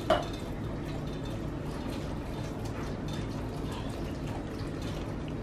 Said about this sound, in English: I'm going to take my broth and just get it all in there.